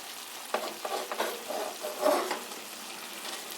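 A spoon stirs sofrito paste with onions in a hot pan, giving a soft scraping and light sizzling through several short strokes over about three and a half seconds, fairly close and alone with no talk.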